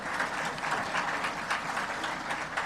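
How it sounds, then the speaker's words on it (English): Steady, dense applause from a large audience at the opening ceremony of an annual general meeting and conference, continuous and even throughout with no distinct talk. "give yourselves a round of applause"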